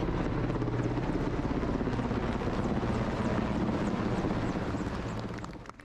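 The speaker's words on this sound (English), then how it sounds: "The parade was opened by a helicopter which flew over the square Knyaz Alexander I, carrying the national flag." A helicopter's steady thumping rotor drone passes overhead a city square during a military parade, loud and sustained, then fades slightly at the end.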